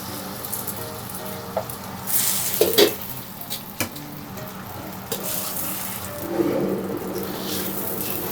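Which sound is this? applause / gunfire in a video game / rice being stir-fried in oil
rice being stir-fried in oil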